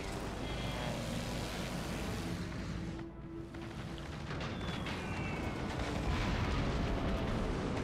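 Bombs bursting during a bomb run in a video game form a dense, continuous roar of heavy, rumbling blasts that swell and overlap for the whole stretch, with a brief dip midway and no voices.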